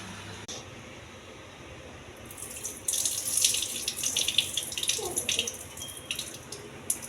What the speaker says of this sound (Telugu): ఈ వాటర్ పడేయాలి.